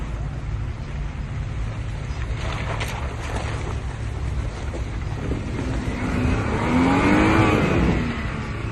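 A vehicle drives along on an overlanding trip, its steady road and engine rumble mixed with wind noise, growing a little louder and rising toward the end.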